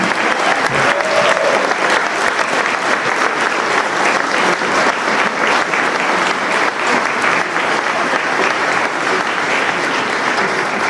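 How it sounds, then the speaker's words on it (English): Sustained applause from a large summit audience welcoming President Trump, steady and loud throughout with dense clapping and no pauses. "Please, a round of applause for the President of the United States of America."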